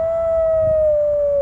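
A person imitates a wolf howl with a long, steady, loud wail that drifts slowly downward in pitch and holds for the whole stretch without a break.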